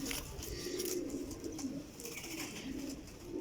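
A Sialkoti black-faced flying pigeon coos softly and steadily in a low, murmuring rhythm, close by but faint, with no one talking.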